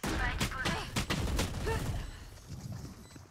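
Rapid bursts of Odin machine gun fire in the shooter game Valorant, dense and loud at first, with sharp repeated shots that thin out toward the end.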